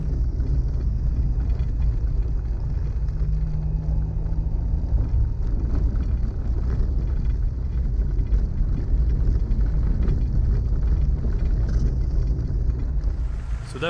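A vehicle climbs a steep mountain road in Montana's Crazy Mountains, Gallatin National Forest, its engine a steady low drone with rumbling road noise that holds level throughout, no voices.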